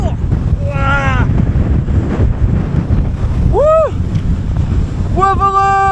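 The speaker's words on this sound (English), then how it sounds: "But the wind is ridiculous." Strong wind batters the microphone on the Wetherlam summit in the Lake District, a loud constant roar with gusty rumble, while a voice makes brief exclamations over it.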